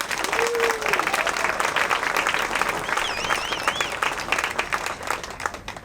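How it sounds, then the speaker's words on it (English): An outdoor crowd at a park grand opening claps warmly for the parks director, a steady dense applause lasting several seconds, with a couple of whoops rising above it. "Please give a warm round of applause"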